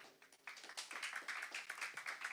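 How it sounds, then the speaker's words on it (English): Conference audience clapping, a quiet, steady crowd applause that swells after a brief softer start and carries on evenly, heard from some distance. "So a round of applause for yourself for being here"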